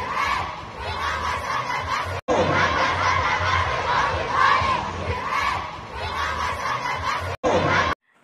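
A dense crowd at a packed fan event in a market roars and shouts continuously and loudly, with cheering voices blending into one sustained wall of noise, briefly cut twice.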